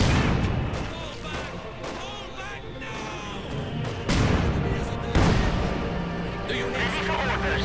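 Tank fire from T-34s in the video game Company of Heroes 2, with several heavy cannon booms and blasts over a steady battle din while a commentator talks throughout.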